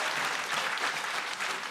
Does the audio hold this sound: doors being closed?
no